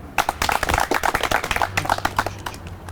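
An audience claps in a busy patter of hand-claps at a Georgian comedy show, with a low hum running underneath.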